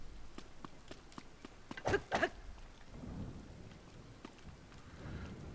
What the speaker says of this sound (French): Il y a de la pluie et tout, c'est chiant.